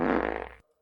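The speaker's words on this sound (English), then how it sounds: "So the fart makes it a 9 out of 10 instead of a 10 out of 10" A loud, buzzy fart, part of a submitted music track, blurts out for about half a second and then cuts off abruptly into near silence.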